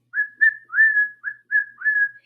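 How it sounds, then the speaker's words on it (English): A single person whistles Jingle Bells alone, six clear sustained notes with brief gaps between them, close and steady in volume. "He whistled Jingle Bells."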